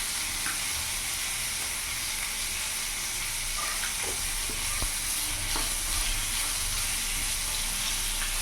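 Pieces of silver carp fish frying in masala in a pan over a medium gas flame, with a steady, close, loud sizzle and a few soft clinks of stirring.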